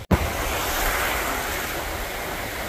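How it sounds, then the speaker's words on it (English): Steady roar of ocean surf on a South Carolina beach, broad and continuous after a brief dropout at the start, with wind buffeting the microphone throughout. "I'm out here on the beautiful beaches of South Carolina"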